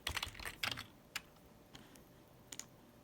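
Keys clacking on a computer keyboard in a short burst of typing, a quick cluster of close, crisp clicks followed by a few scattered taps with quiet pauses between them, no voices.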